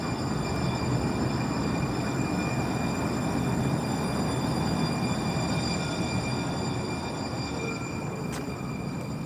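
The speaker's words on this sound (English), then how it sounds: "this is the train in Charlotte." A train in Charlotte passes with a steady, continuous rumble and faint metallic whine, holding an even level with no talking.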